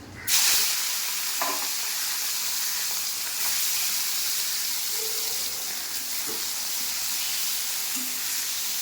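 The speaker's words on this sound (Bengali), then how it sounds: "দিয়ে দেবো কালো জিরে, দিয়ে দেবো মাছ ভাজতে" Morola fish fries in hot oil with black cumin seeds, giving a steady bright sizzle close by with a few soft clinks and stirring touches, and no talking.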